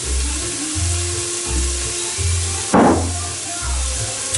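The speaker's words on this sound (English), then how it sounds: "leave those onions browning a little bit before I brown the mince." Onions browning in a frying pan for beef chilli con carne, a steady close sizzle with a rhythmic low pulsing throughout and one brief louder scrape or stir near the end.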